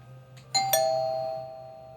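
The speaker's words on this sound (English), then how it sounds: "Suddenly, the doorbell rang." A doorbell chimes two quick bright tones, the second ringing out and fading gradually over a faint background hum.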